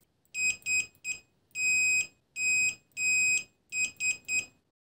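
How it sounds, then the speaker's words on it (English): An FNIRSI S1 multimeter in continuity mode sounds its buzzer in a run of about ten high, pure electronic beeps, some short and some held longer, close and clear with no talk. "The buzzer sounds if the circuit resistance is less than 50 ohms."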